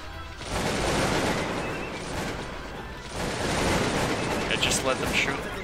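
Musket volleys crackle from massed troops in the strategy video game Cossacks 2: Battle for Europe, two long rolling bursts of dense gunfire separated by a brief lull, loud and continuous.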